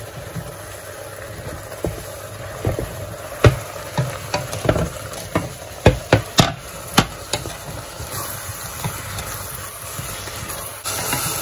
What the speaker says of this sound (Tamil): நம்ம எடுத்து வச்சிருக்க மஷ்ரூம், தக்காளி ரெண்டுத்தையும் போட்டு அதையும் வதக்கலாம்